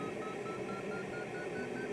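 Repeating electronic instrument beeps from a glider's cockpit variometer in the Condor 2 gliding simulator, a steady series of short tones over continuous broadband wind and game noise, with no talking.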